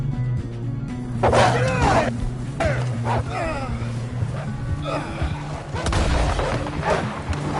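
Wolves snarling and growling during an attack in the video game Red Dead Redemption 2, with several harsh, close snarls and yelps in bursts over a low rumbling backdrop.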